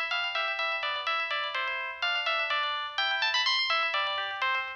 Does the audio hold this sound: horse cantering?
no